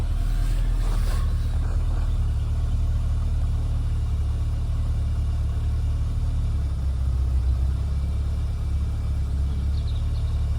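A Mk2 Volkswagen Golf GTI 16v engine idles steadily with a low, even rumble throughout, close by, with a brief rougher burst near the start before settling into a smooth hum.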